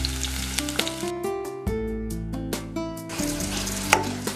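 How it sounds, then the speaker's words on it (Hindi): Potatoes sizzle steadily in a hot pan while being fried for buckwheat-flour kadhi, a continuous close crackle with background music playing over it. "आलू हमारे अच्छी तरीके से फ्राई हो चुके हैं"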